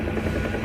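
A Huey helicopter in the DCS flight simulator game drones steadily in cruise, a loud, close, continuous low rotor and engine hum with no talking.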